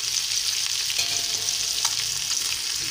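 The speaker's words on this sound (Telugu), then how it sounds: "చేప ముక్కలు చక్కగా ఉడుకుతాయండి, వేగుతాయి." Fish pieces shallow-frying in a little oil give a steady, close, bright sizzle with faint crackles, alone without speech.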